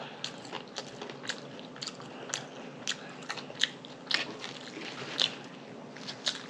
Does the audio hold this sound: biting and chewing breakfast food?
yes